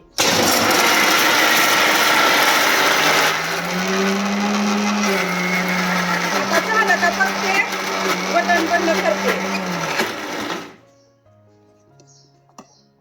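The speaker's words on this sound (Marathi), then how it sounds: "आता ही मिक्सरला मिश्रण करून घेणार आहे मिक्सरला ही भांडं लावून घेतलेलं आहे आता मिक्सर चालू करते" A kitchen mixer grinder blends raw mango chutney, roaring loudly and steadily for about ten seconds, its pitch dropping slightly as the load thickens, then cutting off abruptly into near silence.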